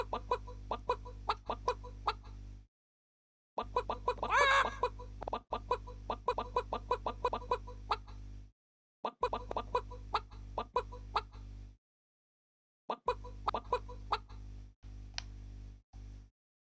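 Repeated chicken clucks from a Fuze game jam video game about catching chickens, short bursts in quick bursts with brief silent gaps, loud and close over a steady low electronic hum.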